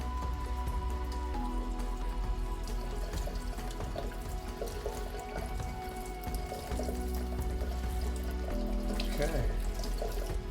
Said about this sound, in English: Rinse the chili off when we're done.